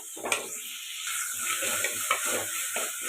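Tomatoes and vegetables sautéed in a pan for a village-style brinjal dish, with a steady low sizzle, a few stirring scrapes and clinks of a spoon against the pan, heard up close with no talking.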